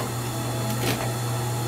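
Sewing machine stitching the elastic waistband of a tulle skirt, with a brief, steady, close mechanical hum and a faint rise partway through.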